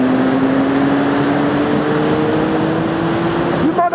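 A Triumph Speed Triple ABS super naked motorcycle is ridden, with a steady engine drone and wind roar held throughout and a sharp rise in engine pitch near the end as it revs up.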